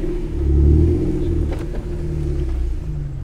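A BMW E36 engine with a cable throttle revs up as the pedal is pressed, a loud deep rumbling swell that peaks and then settles into a steady drone, with no talk over it.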